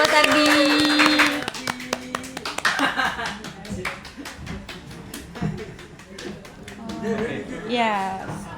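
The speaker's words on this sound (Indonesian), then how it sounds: "Tepuk tangan buat Mas Ardi." In a small radio studio, a voice and a tonal sound come first, then a handful of people clap in a loose, uneven burst of distinct slaps, with talk running over and after it.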